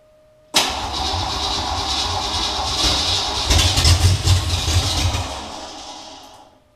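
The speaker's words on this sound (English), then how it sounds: "Hopefully we won't disturb the neighbors too bad running open headers, but we're gonna try to get it fired up tonight" A rebuilt Ford Ranger engine with open headers cranks and fires, then settles into a loud, raw, rumbling idle that swells briefly before fading off toward the end.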